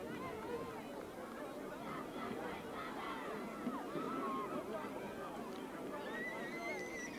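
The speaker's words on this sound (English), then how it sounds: "This is a pretty healthy crowd here tonight." A crowd at a girls' high school soccer game keeps up steady, dense chatter and babble from many voices, with a few louder shouts rising out of the continuous hubbub.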